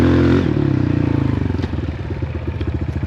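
A dirt bike engine on a woodland trail putters close up with a fast, pulsing idle that rises slightly, its rhythmic chugging loud and continuous over faint clatter.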